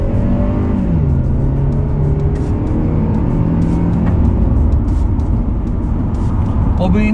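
A car drives at high speed, around 100 km/h, during a tyre handling and stability test on Dunlop LM705 tyres, its engine drone and rising pitch steady and close with loud road and wind noise throughout.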